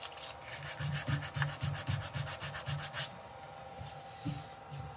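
Hand sanding of a turned birch bowl gives a series of rhythmic rasping strokes, about a dozen in quick succession, close and fairly loud, then a pause and one last stroke, with no talking.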